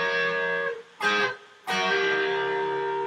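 An overdriven electric guitar plays a short piece of a lick, adding the sharp four that rises to the five. Sustained chords are broken by two quick, punchy note stabs, loud and close with no talking.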